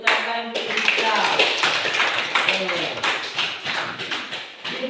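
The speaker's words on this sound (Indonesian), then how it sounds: "Ayo tepuk tangan untuk kita." Classroom applause from a group of students, a burst of overlapping hand claps with a rhythmic, uneven patter lasting several seconds, mixed with voices and chatter.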